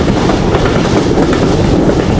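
A train passes Bejardanga station near Jessore, a loud continuous rumble of wagons with rhythmic clickety-clack from the wheels, heard close and alone without talk.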